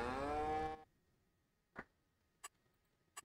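A single loud, drawn-out cow moo from dairy cattle in the farming game Farming Simulator 22, followed by quiet with a few sharp ticking clicks.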